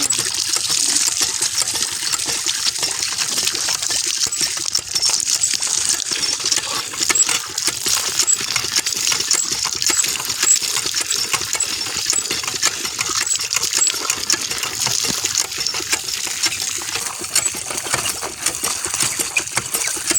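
Water pouring from a village hand pump in a Punjab border village, a steady splashing gush of cold water running continuously and close, with no voices.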